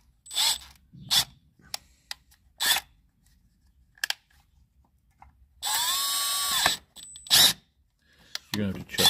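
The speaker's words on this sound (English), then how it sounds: "this air drill here is the tap size for our time cert" Air drill tapping threads for a Time-Sert insert in a Detroit DD15 engine head, heard as a steady two-second whir midway, surrounded by scattered clanks, ratcheting and tool knocks.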